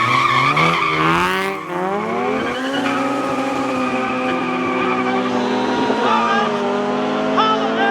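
Car tires squeal and skid loudly while an engine revs and rises in pitch during a street race in Mexico, the sharp squeal sliding up and down over several seconds with faint voices underneath.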